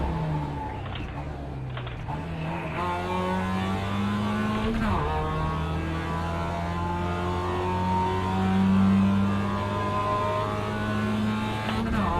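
A sim-racing race car at Laguna Seca growls steadily through the gears, its engine note rising and dropping with each shift and holding a loud, droning tone throughout, with no talking.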